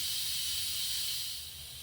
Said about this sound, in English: It takes a minute or so for the pressure to quick release.